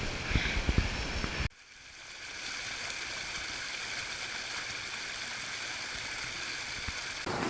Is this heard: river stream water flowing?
yes